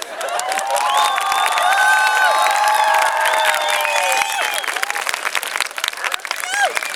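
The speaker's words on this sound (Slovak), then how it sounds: "Super, ešte lepší potlesk." Loud, dense applause from a crowd at a school event, with cheering, whoops and shouted voices rising over the clapping, then thinning into scattered claps.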